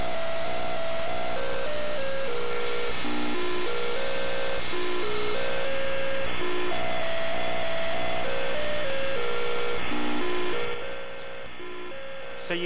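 A computer monitor's emissions picked up with an Airspy software-defined radio and played through AM demodulation come through as a steady buzzing drone of stacked tones with shifting tonal steps. The drone continues for about eleven seconds, then partly drops away.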